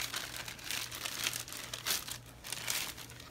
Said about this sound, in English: you're going to put it in a plastic bag.